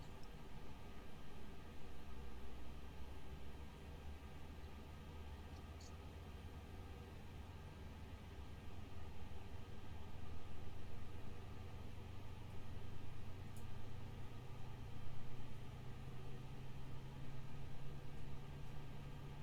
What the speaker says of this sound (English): got the engine starting.